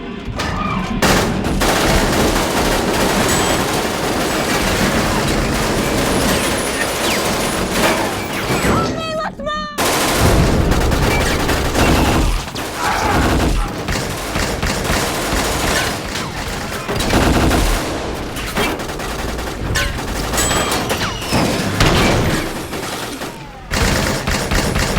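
Dense gunfire and explosions from a sci-fi film infantry battle, with sustained loud volleys, automatic bursts and booming impacts packed across the whole scene and barely a pause.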